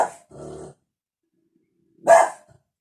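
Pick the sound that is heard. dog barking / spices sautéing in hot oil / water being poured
dog barking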